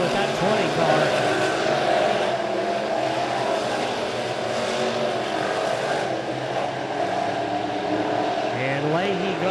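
Midwest modified race cars roar around the Springfield Raceway dirt track during a B-Main race, a steady, dense engine drone with passing engine whines and no break.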